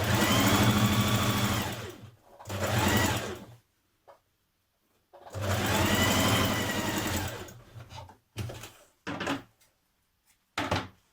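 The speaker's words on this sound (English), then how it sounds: "stitch in your darts." A sewing machine stitches the back darts of a New Look 6446 summer jumpsuit in several close, steady whirring runs that stop and start, separated by quiet pauses and short clicks as the fabric is handled.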